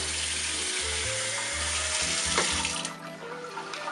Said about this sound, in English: So just pour some water on it.